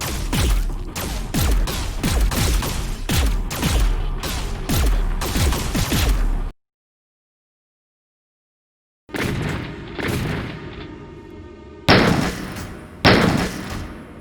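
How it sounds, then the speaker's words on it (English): Rapid chain gun fire in the shooter Doom Eternal, dense loud bursts of repeated shots, a sudden cut to silence, then more shots with ringing tails and a few heavier blasts. "let's get rid of that chain gun pew sound that can't be lowered through the audio options"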